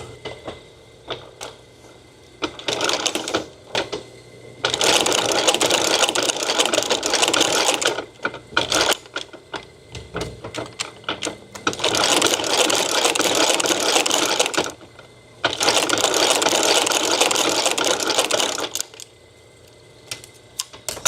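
A sewing machine stitches a black stingray leather holster with black thread, running in three long, loud, close bursts separated by short pauses and fainter handling noise, with no talking.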